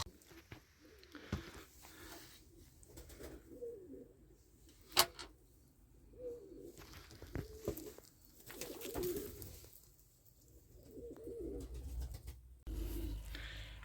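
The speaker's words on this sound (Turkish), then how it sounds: "Bunlar da gene eski kan kuşlar arkadaşlar" Pigeons from an older breeding line coo in a loft in Ankara, Turkey, with repeated soft, low rolling coos coming in bursts from nearby amid faint background noise.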